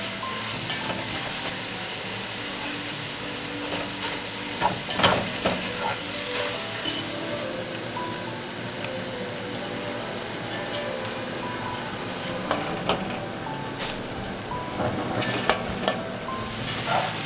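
Cabbage pie filling with sweet pepper sizzles and fries steadily in a pan, with scraping stirring clatter and utensil knocks rising at intervals, loud and close, with no talk.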